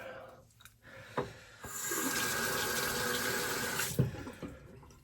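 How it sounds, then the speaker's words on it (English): A bathroom tap runs for a quick rinse after shaving, a steady close gush of water starting after a few small clicks and cutting off near the end. "I'm just going to do a quick rinse"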